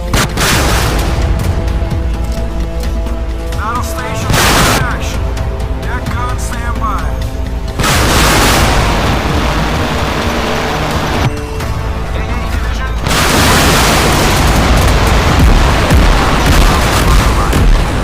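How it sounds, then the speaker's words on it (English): Heavy deck gun on the warship RF Moscow fires in the Modern Warships naval game, repeated loud booms with bursts breaking up a continuous dense background of music and battle noise, with no clear pauses. "Battle station action. Deck gun"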